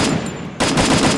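A burst of rapid gunfire in the video game Free Fire crackles loudly after a brief quieter moment, continuing as a dense automatic stream.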